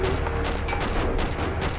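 Rapid gunfire in the military video game Arma 2 crackles in a quick string of about seven sharp shots, moderately loud over a constant background hiss.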